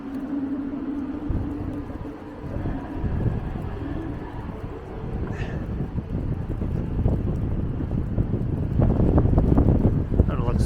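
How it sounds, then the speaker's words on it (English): Strong wind buffets the camera microphone as someone walks through snowy downtown Boston, a continuous loud rumbling roar that grows rougher and more gusty toward the end. "suddenly the wind's blowing directly at me"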